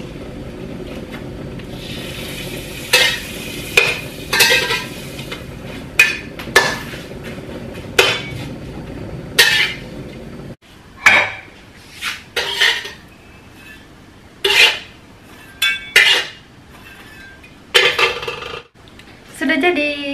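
Metal spatula scraping and clanking in a wok while breakfast is stirred and fried in a village kitchen, sharp irregular clatters repeating every second or two over a soft sizzle, close up with no voices.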